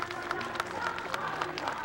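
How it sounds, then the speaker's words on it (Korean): Hundreds of presidential secretariat and security staff lined up to the Blue House main gate clap and cheer for the departing president, a dense, continuous crowd noise with scattered louder claps and voices mixed in. "청와대 정문까지 줄지어 서 있던 수백 명의 비서실과 경호실 직원들은 떠나는 대통령에게 수고와 감사의 인사로 박수와 환호를 보냈습니다."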